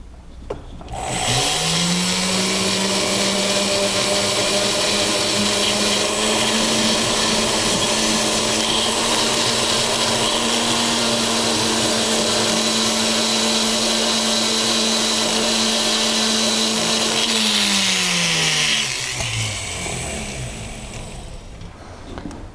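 A rotary polishing tool buffs a jewelry piece with a green polishing compound, whirring up and holding a steady, fairly loud hum for nearly twenty seconds before winding down and stopping.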